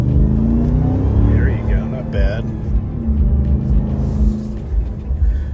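A two-door, two-wheel-drive truck's engine growls and revs in a low, continuous rumble, swelling with throttle in brief pushes, while someone talks over it.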